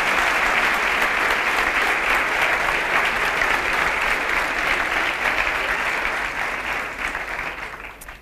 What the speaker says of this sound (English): please give Oscar Harmsen another round of applause